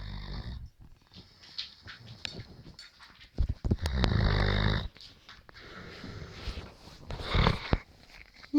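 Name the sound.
snoring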